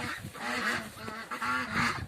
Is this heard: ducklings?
yes